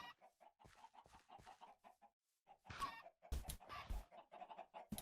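Chickens cluck in the Minecraft video game, with a series of short, clipped bird calls that come in quick bursts with brief pauses between them, fairly close and clear over a quiet background.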